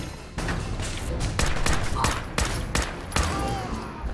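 Bursts of gunfire crackle in the video game Fallout 4, a series of sharp, loud shots in irregular clusters over a steady background rumble.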